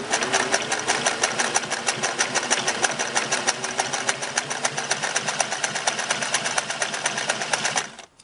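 A Singer Model 401A sewing machine runs two needles with four threads, its rapid, even mechanical chatter steady and close for about eight seconds before stopping abruptly.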